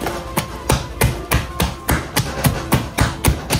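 Steady rhythmic pats on buñuelo dough on a wooden kitchen table, about three firm slaps per second, close and loud with no talking.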